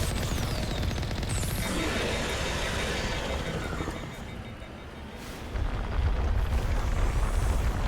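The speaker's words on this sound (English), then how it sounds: "Oh, I shoot the cannon." Cannon fire and explosions from the video game Mass Effect, a dense roaring wash of blasts and rumbling debris with a brief lull before another heavy burst near the end, loud and continuous with no voices.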